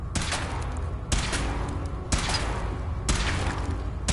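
Weapon firing in Fallout 4 during a powered-armor suit test: four heavy, evenly spaced booming shots about a second apart, each with a ringing decay, loud and close.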